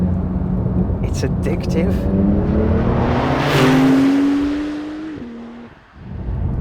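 A Porsche 911 Turbo S engine climbs in pitch as it accelerates hard, a rising whine swelling to a loud peak before easing off, with someone talking over it.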